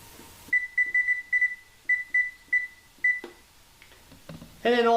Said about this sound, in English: we're waiting for the timer to go off, which should be off any second now